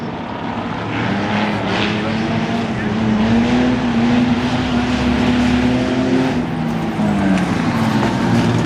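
Stock race cars roar around Langley Speedway during the 2012 Day of Destruction event, their engines forming a loud, continuous drone whose pitch rises and falls as they pass.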